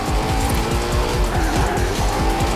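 Koenigsegg Agera RS, a rear-wheel-drive hypercar in Forza Horizon, roars loudly at high revs with rapid repeated gear-shift sweeps and tire squeal, continuous and close with no talk.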